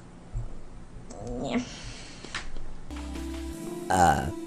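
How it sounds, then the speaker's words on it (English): A woman streamer lets out a burp amid scattered room noises and a brief high squeal, loud and close with a rough low tone. "Good fucking burp."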